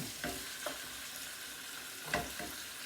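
Chicken fries in a pan with mushroom sauce, giving a faint, steady sizzle broken by a few soft stirring scrapes, with no voices.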